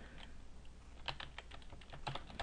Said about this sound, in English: Type in your passphrase.